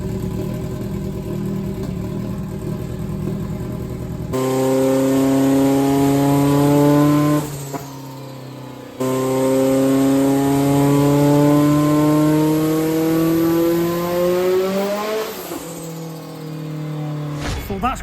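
A stock Saab engine revs hard on a power run at gate boost pressure, two long rising pulls with strong harmonics, loud and close, each dropping off before a brief lull. Nobody talks over it.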